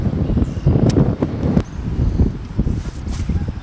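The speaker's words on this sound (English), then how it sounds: "with the way the wind's blowing here" Wind gusts over a lake at a forest preserve, buffeting the microphone with a loud, uneven low rumble throughout, alongside faint rustling and knocking sounds from a boat.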